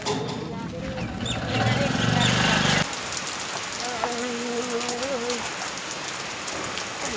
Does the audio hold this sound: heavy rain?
yes